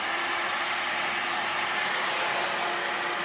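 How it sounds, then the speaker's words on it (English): A hair dryer runs at full blast on a medium heat setting, a steady, loud, close broadband whoosh of airflow holding evenly throughout with no talking. "it's just full blast but medium setting on the heat"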